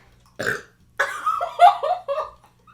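A person lets out loud burps: one short belch, a pause, then a longer, croaking run of several rough, voiced burps in quick succession, close to the listener.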